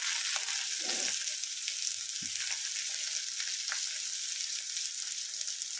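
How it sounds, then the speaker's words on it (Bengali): Chopped onion fries in a pan for matar paneer, an even hissing sizzle throughout with a few soft stirring knocks near the start, close and without speech. "পেঁয়াজটা কেটে নিলাম, পেঁয়াজটা একটু ভালো করে ভেজে নেব।"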